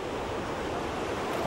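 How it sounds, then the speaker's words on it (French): Giant surf waves on the north shore of Hawaii make a steady, dense roar of breaking water, heard from a distance with no voices over it. "On accourt du monde entier sur les plages d'Hawaï pour glisser sur des vagues qui peuvent atteindre 15 mètres de haut."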